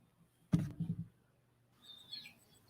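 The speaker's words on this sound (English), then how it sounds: "So I do have baby chicks over there, Jenna." Baby chicks chirp in the background, a faint high twittering burst near the end after a short low thump and rumble, with otherwise quiet surroundings.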